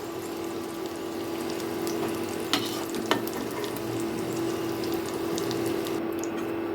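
Potatoes frying until reddish in oil for a rohu fish-head muri ghonto give a steady, moderate sizzle, broken by two sharp utensil clinks near the middle, with no one talking.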